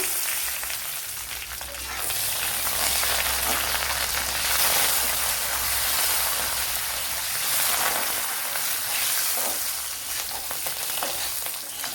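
Curry leaves and other ingredients sizzle steadily in a pan while rava uppumavu is cooked, a loud, dense frying hiss that continues without a break and with no talking.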